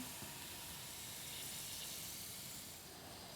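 Steam hisses continuously and fairly loudly from a DASH egg bite maker, a broad, even rush with no talking over it.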